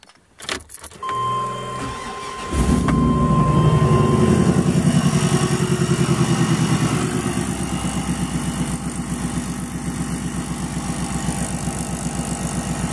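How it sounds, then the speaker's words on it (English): After a few clicks and a starter crank, a 1996 GMC 3500 pickup truck engine catches and settles into a steady, loud idle with a rhythmic pulse. "Let's turn the truck on, and see what happens."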